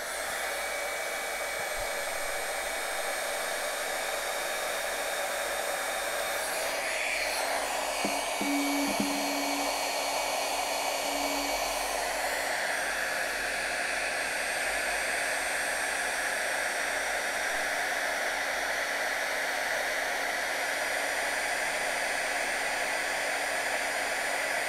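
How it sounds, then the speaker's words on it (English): A heat tool blows hot air onto a card while crafting: a steady, loud, close whooshing hiss that runs unbroken for the whole stretch, with faint small knocks partway through. "I'm just going to hold that like that and heat my heat tool up."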